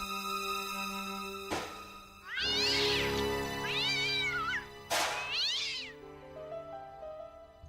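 A cat meows in the Broken Sword: Shadow of the Templars Reforged game, two drawn-out, wavering calls with a pause between them, fairly loud over steady game music.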